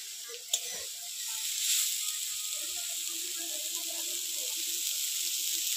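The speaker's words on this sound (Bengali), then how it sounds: "থোড় ভাজা হয়ে গেছে" Banana stem (thor) frying in a pan for a prawn dish gives off a faint, steady sizzling hiss that holds evenly throughout, with no talk over it.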